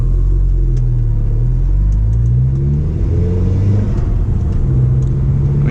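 A 1.8T Stage 2 Golf driven gently, its low engine hum and road rumble steady and close from inside the cabin, with mild rises in engine pitch and no talking.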